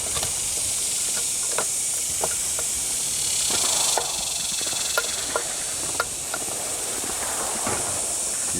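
Chili simmers in a Hungarian mess kit pan over a Trangia stove, a constant steamy hiss with scattered small clicks and taps as it is stirred, close by and without talk.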